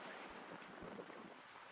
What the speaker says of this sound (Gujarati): બહુ જ પવન છે, વાવાઝોડા જેવો।